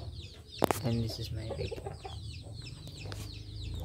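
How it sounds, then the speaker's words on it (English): Chickens cluck and squawk at 6 a.m. outdoors, a sharp burst near the start, then a low, steady clucking under quiet speech and a constant background hum. "There's a lot of chicken as always."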